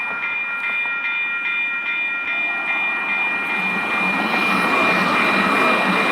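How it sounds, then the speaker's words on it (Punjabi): A metro train rumbles past with a steady, loud roar and a high whine, growing slightly louder toward the end; no one speaks. "ਆ ਗਈ ਟ੍ਰੇਨ ਮੈਟਰੋ"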